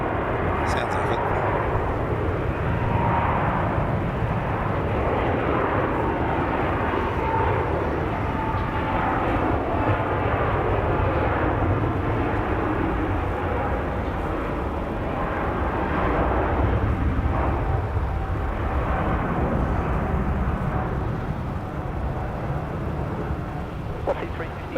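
A heavy aircraft takes off at night from Melbourne Airport, a steady broad roar of jet engines sustained and fairly loud throughout, with people talking over it now and then.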